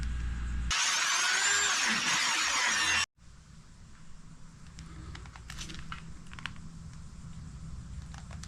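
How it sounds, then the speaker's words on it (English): A power drill bores out hardened epoxy in a kayak skeg control build, a loud continuous whine for a few seconds that cuts off abruptly and leaves quiet workshop noise. "Okay, I'll drill out inside of this epoxy."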